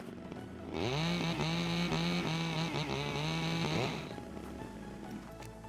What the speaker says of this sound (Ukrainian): Аби завести бензопилку, достатньо натиснути один раз літеру R.